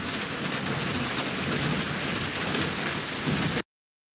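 Steady heavy rain hisses through a storm with a low rumble of thunder underneath, loud and continuous, then cuts off abruptly into silence.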